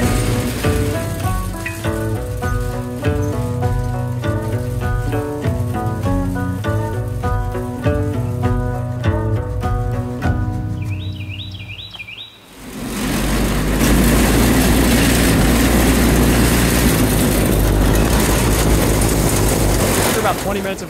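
A go-kart running on 3D printed filament bearings rolls along with a steady, continuous motor and tire noise, broken by a brief dip before a louder, rougher rush of sound takes over.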